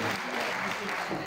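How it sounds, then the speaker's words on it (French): Brief burst of applause from an audience at a political peace-movement launch event in Côte d'Ivoire, dense clapping heard alone and fairly loud. "Applaudissez."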